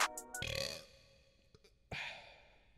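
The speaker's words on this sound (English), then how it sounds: "I got a burp." A single short burp comes early, followed by a sigh-like breath and a further throaty release, close and fairly quiet with no other sounds around it.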